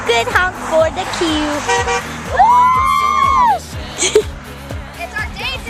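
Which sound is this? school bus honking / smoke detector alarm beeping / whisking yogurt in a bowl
school bus honking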